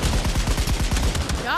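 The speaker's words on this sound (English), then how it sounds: "where I learn how to shoot a weapon" Rapid automatic gunfire from a weapon in the VR shooter Pavlov, a fast, loud string of close shots followed by a brief ringing tail.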